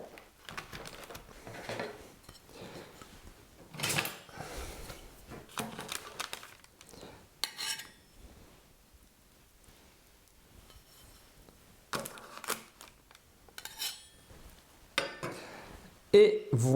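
A knife cuts through soft almond, carrot and walnut biscuit dough on a board, giving intermittent faint taps and clicks spread over a stretch of quiet kitchen noise, with brief speech between the cuts.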